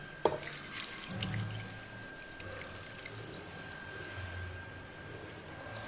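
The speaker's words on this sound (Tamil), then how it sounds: "இப்போ இது கூட தண்ணி ஆட் பண்ணிக்கலாம்" Water pouring steadily into a pressure cooker holding kurma ingredients, a soft continuous splashing stream after a brief clink, fairly quiet and close.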